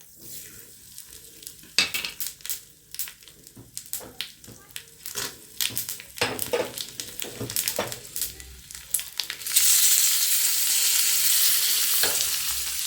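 Mustard seeds, cumin, asafoetida, curry leaves and chillies hit hot ghee for a tempering for pumpkin raita, first crackling and popping in sharp bursts, then erupting into a loud, continuous sizzle near the end.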